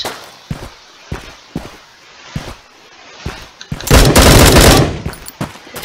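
Suppressive automatic gunfire in the video game Bullet Force: sharp, evenly spaced single shots and short bursts build to a loud sustained volley, then trail off into a few more cracks.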